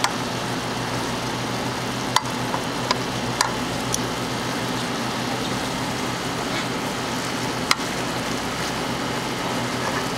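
Chicken pieces sizzling steadily in a pan of sauce, a constant frying hiss broken by a few sharp taps and clicks as the pieces are turned.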